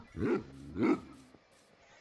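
A Minecraft dog gives two deep, close barks about half a second apart, followed by quiet.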